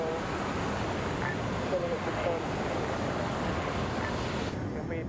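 A low, continuous jet engine roar from an F-35 in a military video game drones in the background, steady and fairly distant, with faint voices and game noises over it.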